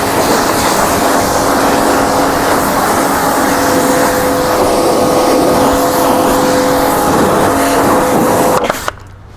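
A pressure washer sprays down the wheels of a tractor, a loud, steady hissing jet running continuously with a motor hum underneath, cutting off abruptly near the end.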